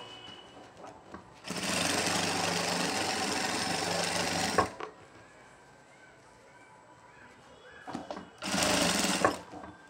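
Sewing machine stitching a bag made of kora river grass, running loudly in two bursts of rapid whirring, one about three seconds long and a shorter one later, with quieter handling noises and a person talking in between.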